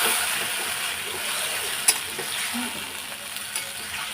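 Mutton curry stirred in a pan, a steady close sizzle with occasional spoon knocks against the metal and soft scraping throughout.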